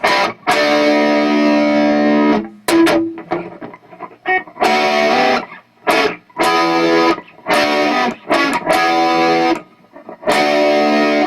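A loud, distorted electric guitar plays a riff in short chopped phrases separated by brief silences, with no accompaniment.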